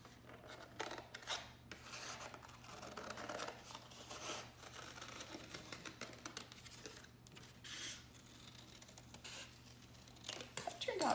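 Scissors cut through paper for a craft wing, making a soft, continuous rasping and rustling that runs close and fairly quiet throughout, with brief louder snips near the end.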